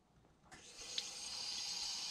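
Water gushes into a container to make lightly salted water for soaking cut pineapple, starting abruptly and then running as a steady, even flow.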